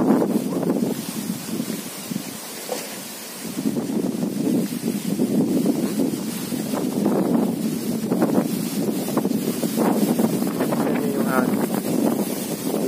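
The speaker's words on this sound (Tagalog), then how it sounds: "Hangin talaga kumahapit sa aking mukha." Steady wind gusting and buffeting the microphone outdoors on a farm, a continuous low rumble with a brief lull early on, with faint voices mixed in.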